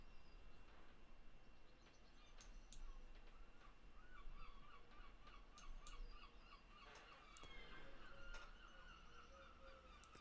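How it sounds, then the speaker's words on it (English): Gulls calling at a distance, a scatter of brief harsh cries over steady low background hum, loudest in the middle and faint overall. "Goddamn seagulls."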